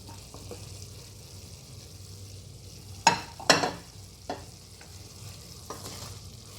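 Chopped carrots are tipped into rice frying in a pot, then stirred with a couple of sharp scraping clatters followed by softer, sparser stirs over a faint sizzle.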